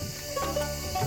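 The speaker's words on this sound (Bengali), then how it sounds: "ঝিঝি পোকার ডাকটা এত শোনা যাচ্ছে" Crickets chirp steadily in the quiet grounds of an orchid research centre in Dirang, Arunachal Pradesh, a thin continuous trill over a calm background.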